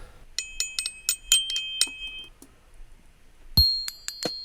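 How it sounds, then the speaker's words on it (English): Ringing bell tones, clear metallic dings with sustained pitches, struck in a syncopated jazzy drum-style pattern with a low thump near the end, no voices. "Now we've got our ringing bells doing a little jazzy beat."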